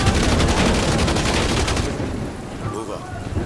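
Dense rapid gunfire in Call of Duty: Modern Warfare 2, a loud sustained burst of crackling shots that cuts off partway, leaving quieter scattered noise.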